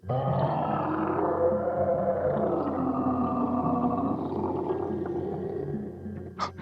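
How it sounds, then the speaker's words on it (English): Monster roars in an audiobook, deep, drawn-out and growling, building into one long sustained bellow that trails off near the end, loud and close with no narration over it. "The roars got louder and louder. It was Krindlekrax."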